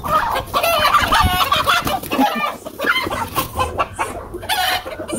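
Chickens squabbling in a farm setup, with busy clucking, squawks and a rooster crow mixed in, close and continuous.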